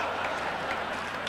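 Audience applause at a Quebec comedy awards gala, a dense, steady wash of many hands clapping at once, moderately loud and even throughout the brief stretch with no voices standing out.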